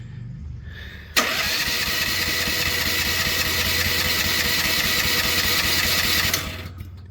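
A small engine sputters, then catches abruptly and settles into a steady, buzzing idle for several seconds before cutting off near the end.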